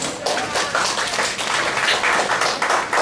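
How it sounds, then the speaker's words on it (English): Conference audience applauding a research presenter, steady, dense clapping throughout at close, even loudness with no talk over it. "Let's give her a round of applause."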